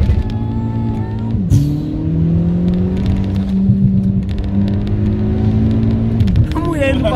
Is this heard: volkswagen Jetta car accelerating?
yes